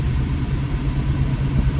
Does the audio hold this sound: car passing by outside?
yes